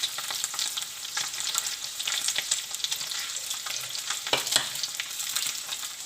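Paneer frying in a pan gives a continuous close sizzle with a crisp, hissing crackle, broken by stirring scrapes and a few louder spits, and no voices over it.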